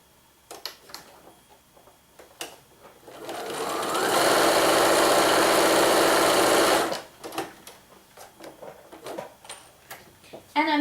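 Sewing machine stitching a quarter-inch quilt seam, a steady loud mechanical whir running for about four seconds, framed by quieter handling clicks and fabric shuffling before and after.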